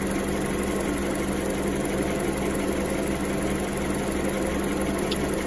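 A Skoda Fabia 1.4 from 2014 idles with a steady, continuous drone and faint knocking from its engine, heard close and loud throughout with no talk.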